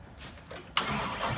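A 2023 Corvette C8, rebuilt after a wreck and running on a very weak battery, cranks briefly and then fires abruptly into a loud, broadband engine roar that holds steady to the end.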